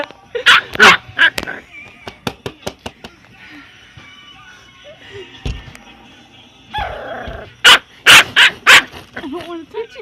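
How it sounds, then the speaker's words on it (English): A pet dog gives sharp, close barks and yips mixed with whimpers in irregular bursts, while people talk and play with it. "we're messing with my dog Saris."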